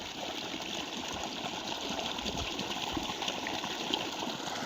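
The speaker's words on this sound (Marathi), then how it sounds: "ऐकून आलं मला पाण्याच्या आवाजाने" Water rushes and gurgles steadily in a continuous flow into a field channel, fairly close, with no talking.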